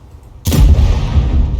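Ferdinand tank destroyer fires its main gun in a video game: one sudden loud, close cannon boom after a quiet lead-in, followed by a long rumbling decay.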